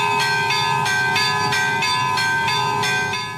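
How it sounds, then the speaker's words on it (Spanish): Church bells ring in a steady, even rhythm, bright tones struck repeatedly and left to hum, with no voices. "Las campanas anuncian el inicio de una ceremonia"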